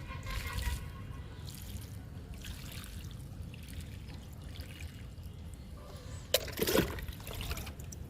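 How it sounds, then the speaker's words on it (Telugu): Water trickles and splashes softly onto soil in terrace flower pots of freshly planted plants, a brief louder pour near the end, over low steady background rumble. "మొక్కలకి వాటర్ ఇచ్చేటప్పుడు ఇట్లా చెయ్యి అడ్డం పెట్టి వాటర్ ఇవ్వాలండి."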